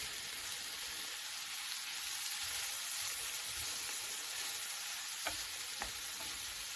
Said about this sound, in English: and in goes the rest of the spring onions as well. So just giving that a stir fry basically.